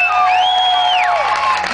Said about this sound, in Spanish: Quiero escuchar un fuerte aplauso